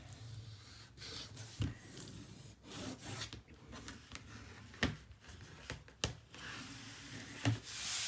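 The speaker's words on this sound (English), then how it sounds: "I'm going to burnish." Paper being burnished by hand during an album build: a quiet, close rubbing with irregular strokes and a few sharper taps and scrapes scattered through.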